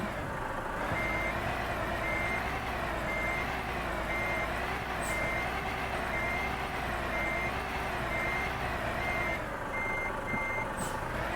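A Volvo truck rumbles along a dirt mountain road, its engine a steady, moderately loud drone with a repeating high beep sounding over it throughout, and no voices.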